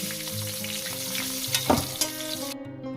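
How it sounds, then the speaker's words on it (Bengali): Bay leaves, whole garam masala and cumin seeds sizzle in hot oil, a close, steady frying crackle with a few sharp spatters and light stirring near the end. "দুটো তেজপাতা ওই তেলেই দিয়ে দিলাম দিয়ে দেবো গোটা গরম মশলা জিরে পুরো দিয়ে দিলাম কয়েক সেকেন্ড একটু ভেজে নেব"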